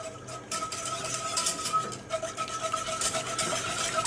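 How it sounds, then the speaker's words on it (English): Steady scraping of a spoon stirring milk and brown sugar in a pot over low heat, a continuous soft rubbing texture with faint metallic clinks, close and alone with no talk. "on a low heat, we just want to stir this and heat it up"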